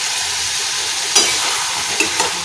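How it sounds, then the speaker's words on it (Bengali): Spices and elephant foot yam are stir-fried in a pan, giving a steady loud sizzle, with a few brief scraping stirs breaking through near the end. "নেড়ে একটু কষিয়ে তারপরে ঢাকা দেবো।"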